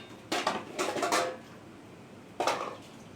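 Dishes and pots clatter in a home kitchen as food is moved into a serving bowl: two quick bursts of clanking crockery, then a lone clink after a short pause, fairly close and with no talking.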